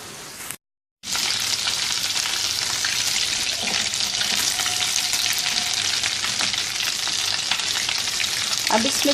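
Ginger garlic paste sautéing in a pan for chicken jalfrezi, a loud steady sizzle that cuts out for a moment, then resumes with occasional stirring scrapes.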